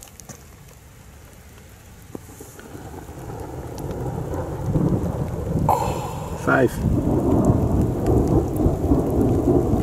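A severe summer thunderstorm with heavy rain pouring steadily, low rumbling thunder building midway and a sharp crackling strike, while someone briefly speaks over the downpour.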